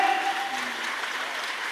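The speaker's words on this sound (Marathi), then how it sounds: "विटेवरच्या मालकानं टाळ्या वाजवा" Crowd at a Marathi kirtan sermon breaks into brisk, dense clapping, close and steady for a short burst, with a voice trailing off at the start.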